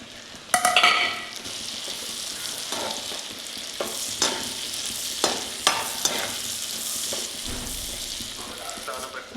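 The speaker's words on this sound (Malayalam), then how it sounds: "അതിനകത്തേക്ക് വെളുത്തുള്ളി 2ആയിട്ട് കീറിയതും പച്ചമുളകും കൂടി ഇടുകയാണ്." Split garlic and green chilies dropped into a hot pan of oil for a beef pickle, a loud sizzle that settles into steady frying, broken by repeated scraping stirs of a utensil against the pan.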